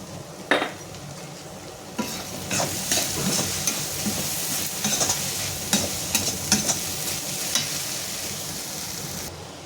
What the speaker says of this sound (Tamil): வெங்காயம் இது மாதிரி கோல்டன் கலர் வந்ததுக்கப்புறமா நம்ம கொஞ்சம் இந்த ஸ்டேஜில் கொஞ்சம் மஞ்சள்தூள், ஒரு 2 பிஞ்ச் அளவுக்கு மஞ்சள்தூள் போட்டுக்கணும்